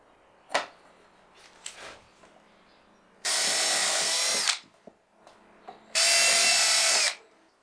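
A power drill driving screws to mount an acrylic cover panel on the front of a garage-workshop chisel organizer: two loud sustained whirring bursts about a second long, separated by softer handling knocks and clicks.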